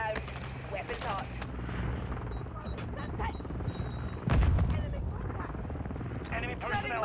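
Gunfire in the game Modern Warfare 2, a steady stream of close rapid shots and bursts with a heavier boom midway, over battle noise while a voice talks throughout.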